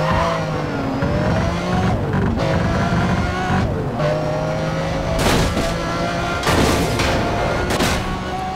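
A turbocharged Lamborghini Estoque engine in the racing game Need for Speed World revs hard and loud, climbing and dropping through gear changes, with sharp blasts and bursts near the end.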